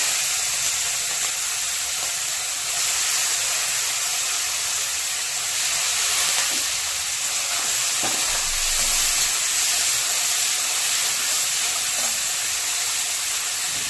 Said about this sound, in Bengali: এবার আমি এটাতে চিংড়ি মাছগুলো দিয়ে দেবো।